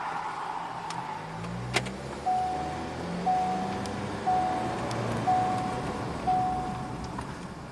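Ford Escape turbo GDI engine in a parking lot with a fuel pressure fault, a steady close engine drone with a short warning beep repeating about once a second.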